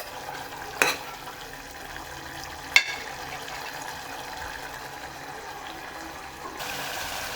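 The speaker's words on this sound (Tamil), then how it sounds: "இது நல்லா கொதித்து எண்ணெய் தனித்தனியாக பிரியணும்." Beef chukka cooks in oil in a pan, giving a steady low sizzle and bubbling throughout, with two brief sharp clatters near the start and a slightly brighter, louder hiss at the very end. Nobody speaks.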